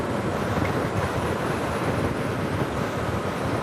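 Loud, steady wind roar buffeting the rider on a V-twin motorcycle cruising at around 65 to 75 mph, a dense continuous rush with no gaps and no voices.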